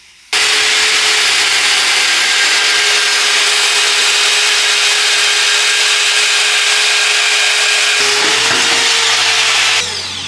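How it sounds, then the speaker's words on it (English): A bandsaw runs loud and close, a steady high whine with a constant tone as it cuts, starting abruptly and holding for about ten seconds before easing off slightly at the end. "That new bandsaw"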